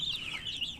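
Grown hens and chicks cluck softly and continuously nearby while pecking at fresh greens such as spinach, grass and coriander, with a brief warbling call and no talking.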